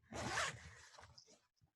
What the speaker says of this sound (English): since we heard the zipper